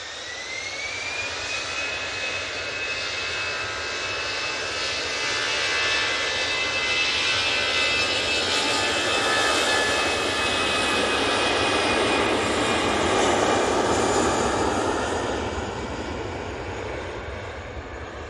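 A jet airliner departs Manchester Airport for Gibraltar in the early morning, its engines roaring loud and steady, swelling to a broad peak mid-way and easing slightly at the end, with no voices.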